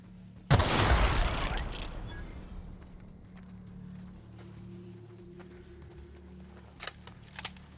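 A loud explosion booms inside a cave in the video game The Outer Worlds, a single sharp blast with a rumbling decay over about a second, followed by quieter ambience and a few faint clicks.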